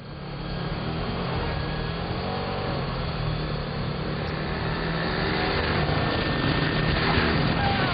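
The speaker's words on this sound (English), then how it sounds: "Bond, of course, escapes, jacks a motorcycle, and rides it off a cliff," Aircraft engine from a GoldenEye video game cutscene on the Nintendo Wii, a steady loud propeller drone that holds for the whole stretch, rising slightly toward the end.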